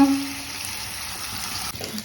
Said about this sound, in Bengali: তেলাপিয়া মাছ ভাজা অলমোস্ট শেষ একটু বার উল্টে দিচ্ছি